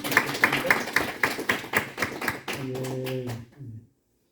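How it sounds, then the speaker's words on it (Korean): A congregation at an Easter church service claps in a steady, brisk rhythm of sharp, close hand claps. The claps end as a sustained low tone rises and then fades to silence. "한번 우리 하나님께 박수의 영광을"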